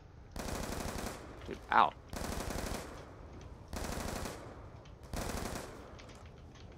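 Hemtar gun firing in a Call of Duty zombies round on Nuketown: four sustained bursts of rapid automatic fire, each roughly a second long with short gaps, plus a brief voice between the first two bursts.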